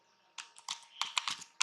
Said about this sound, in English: I am typing